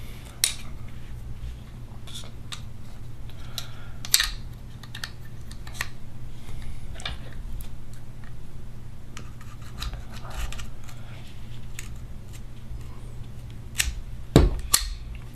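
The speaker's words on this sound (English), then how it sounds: "You got to slide the bolt just a little bit forward before you put on the pump handle." Bolt sliding forward and pump handle being fitted on a Bob Long MVP paintball pump marker: scattered small metallic clicks and scrapes over a low steady hum, with a sharper snap near the end.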